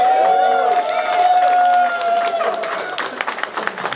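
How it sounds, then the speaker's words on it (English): Audience applause with scattered claps and crowd noise at a live podcast event, loud and sustained, with a voice speaking over the start before the clapping thins out. "One last round of applause, please."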